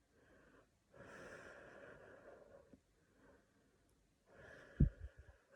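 A slow, soft out breath during a breathing exercise for breathlessness, heard as quiet airy exhalations in separate stretches with short gaps, close and faint, ending with a small breathy snort.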